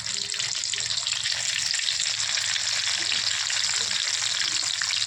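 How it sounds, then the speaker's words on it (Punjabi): Eggplant pieces frying in hot oil in a pan, a loud continuous sizzle with a dense crackle that stays even throughout. "ਅਸੀਂ ਹੋਰ ਵੀ ਨਾਲ ਨਾਲ ਫਰਾਈ ਕਰ ਲੈਂਦੇ ਆ"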